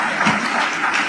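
Hall audience applauding for honoured governors at a Tamil-language event: a dense, steady wash of many hands clapping together, sustained and fairly loud throughout, with no speech over it.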